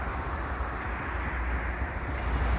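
A slow eastbound CPKC freight train rolls past Lachine station around noon, a steady, dense rumble and roar at moderate distance with no break across the whole stretch.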